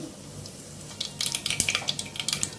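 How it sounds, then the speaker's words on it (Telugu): Mustard seeds, cumin and dried red chillies drop into hot oil for a spinach moong dal tempering, a brief close burst of sharp popping and spattering crackles that starts quietly and builds in the second half. "ఆయిల్ వేడైంది పోపు దినుసులు వేసుకుందాం ఆవాలు జీరా ఎండుమిర్చి"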